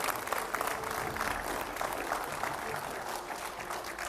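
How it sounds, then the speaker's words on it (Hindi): A seated audience at a public discussion gives Jagadguru Rambhadracharya a sustained welcoming round of applause, a dense, steady roar of many hands heard from some distance without a break for over four seconds. "जोरदार तालियों से स्वागत कीजिए तुलसी पीठाधीश्वर जगत गुरु राम भद्राचार्य जी का।"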